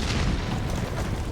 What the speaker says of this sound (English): There's your explosion.